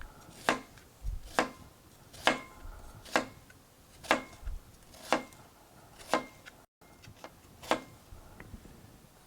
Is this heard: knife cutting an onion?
yes